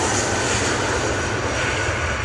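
Airbus A320ceo jet airliner engine roaring steadily and loudly at close range, a dense continuous rumble with no voices over it.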